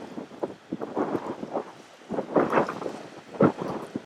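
Gusty wind buffets the microphone in uneven rumbling surges at Lake Pedder in the Tasmanian Highlands on a blustery, drizzly day, rising and falling without any talking.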